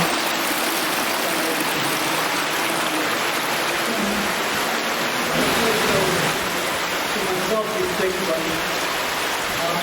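Steady broadband rush of river water flowing through a stream tunnel in winter, constant and close, with faint voices and movement mixed in underneath.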